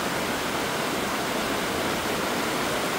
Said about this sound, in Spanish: Y pues así es el río Mojaflores acá en Nueva Concepción.